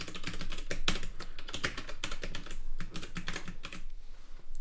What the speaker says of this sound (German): warum tippt er so viel?